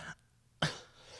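A single sharp cough, faint and close, standing alone after a short quiet pause with a brief fading tail.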